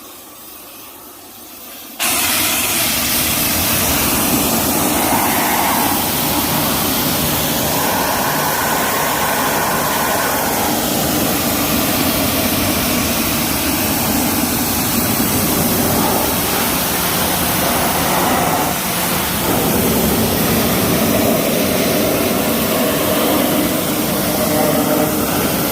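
A pressure washer rinses a 1997 Toyota 4Runner after a foam soak, a steady, loud, close hissing spray that starts abruptly after a quiet moment and runs on without pause.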